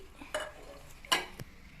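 A spoon scrapes and clinks in a pot of mackerel curry with tamarind water added, giving a few soft stirring swishes and a brighter knock near the end, close and fairly quiet.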